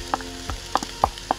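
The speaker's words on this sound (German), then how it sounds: "Nun kippe ich noch die Paprika dazu." Bell pepper sizzles in a pot as it goes into a Canarian chickpea stew, with a soft frying hiss broken by several sharp pops and crackles at irregular intervals and no speech.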